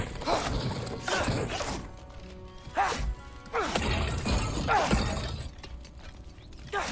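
Clay pots shattering in God of War Ragnarök, several sharp breaking crashes spaced a second or two apart over game ambience, with no talk.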